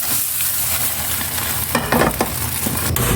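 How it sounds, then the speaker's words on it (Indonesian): Spinach and glass noodle omelette batter hitting hot oil in a wok, a loud steady sizzle that swells with bursts of crackling spatter partway through, close up with no talk. "Minyaknya udah panas nih Lik, langsung sereng saja ya."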